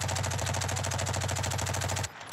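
Video game automatic gunfire, a loud, fast, evenly spaced stream of shots close by for about two seconds, then a sudden cutoff.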